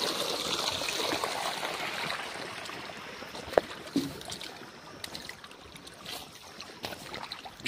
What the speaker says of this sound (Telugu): 3 బోర్ల ద్వారా అయితే నీళ్ళు ఇడిచినాము